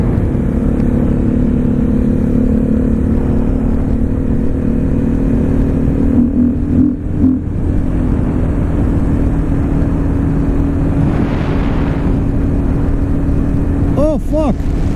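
A 2014 KTM 450 XC-W supermoto motorcycle's engine drones steadily up close throughout, with a brief throttle change midway while a rider talks over it outdoors.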